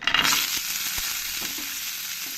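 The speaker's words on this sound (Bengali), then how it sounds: "ভালো লাল লাল করে আমি ফ্রাই করে নেব" Tomato, onion and cashews frying in hot ghee make a continuous sizzle, louder at the start and then settling, with a couple of light stirring knocks.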